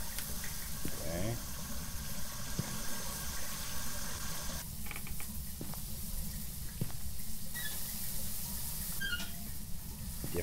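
Shower water runs in the video game Phasmophobia as a steady close hiss and rush, with faint clicks and shifting noise over the top.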